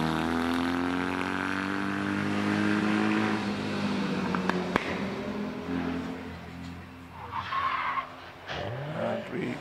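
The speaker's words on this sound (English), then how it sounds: "Jeremy Rivers-Fletcher comes around Pardon in the Buckler Bellamy or Bellamy special" Buckler Bellamy special race car rounding the Pardon bend at Prescott's historic hillclimb, its engine note loud and sustained as it revs through the corner, then pulling away and fading slightly near the end.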